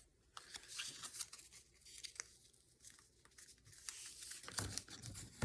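Paper being cut quickly with a paper cutter, a series of short crisp slicing and tearing rasps with rustling between strokes, close and fairly faint.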